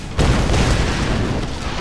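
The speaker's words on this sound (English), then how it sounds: "The explosions are actively helping me out now." Heavy, rumbling explosions boom continuously with a sudden loud onset, deep low-end roar sustained throughout in the video game Tomb Raider (2013).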